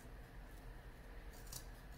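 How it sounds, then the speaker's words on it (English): Scissors cut through craft material for a seasonal round door sign, faint close snipping with a brief brighter cut near the end over a quiet room background. "We're going to take our scissors and we're going to cut through"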